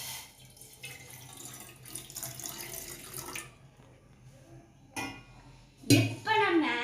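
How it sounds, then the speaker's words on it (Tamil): Water pours steadily into a pan on a lit stove while a Tamil home cook makes paal bun, a close splashing hiss that rises and falls, ending in a sharper clatter and gush. "அடுத்து நம்ம ஹைலியே வச்சுட்டு நம்ம தண்ணி ஊற்றிக்கலாம்."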